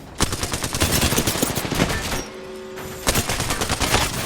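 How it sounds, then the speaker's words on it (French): Rapid automatic gunfire from Apex Legends rattles loud and close in dense bursts, breaks off for about a second under a steady low tone, then resumes with another fast volley. "On me tire sur les circuits, les amis."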